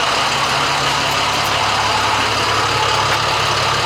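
A diesel service truck engine idles loudly and steadily up close, a constant low rumble with broadband clatter and no other sounds.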